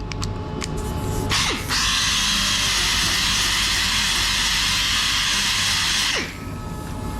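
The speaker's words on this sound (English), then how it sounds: "so I'll just use the roll lock. I've got some 80 grit on there." An 80 grit Roloc disc on an air tool grinds surface rust off the steel body of a Ford Ranger under repair, a loud, steady high-pitched whirring abrasion lasting about four seconds, with quieter shop noise before and after.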